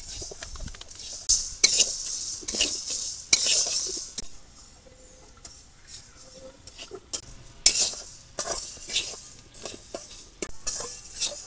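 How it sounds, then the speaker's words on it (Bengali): Lentils being dry-roasted for khichuri in a wok on a village kitchen stove, with a spatula scraping and clinking against the metal in irregular bursts and a soft dry rustle between strokes. "এবার ডাল ভাজার জন্য চুলা কড়াই দিয়ে দিলাম।"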